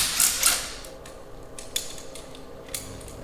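Small metal retaining screws being removed from a Hellcat supercharger, a few close metallic scrapes and light clinks at the start, then faint sparse ticks of hardware, no voices.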